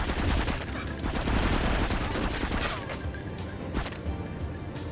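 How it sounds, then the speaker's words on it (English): Gunfire from the PC version of GTA 3, a dense sustained barrage of overlapping shots and crashing impacts, loud and continuous throughout with no talking. "if you attack Maria or Asuka, they'll shoot at you"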